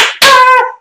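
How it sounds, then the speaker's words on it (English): A short, sharp pair of hand claps, close and loud, with nothing else around them. "I give you a round of applause."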